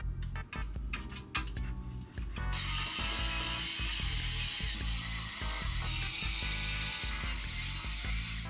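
A screwdriver ratchets as screws drive a motherboard into a PC case, with quick clicking bursts first, then steady repeated ratcheting under a broad hiss, close and loud.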